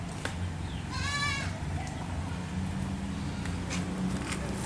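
A goat on a farm lets out one short wavering bleat amid steady outdoor ambience, with faint distant sounds afterward.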